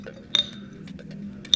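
A utensil stirs last week's pork barbecue dry rub in a bowl, making light clinks and taps against the dish, with two sharper bright chimes and scattered soft scrapes in between.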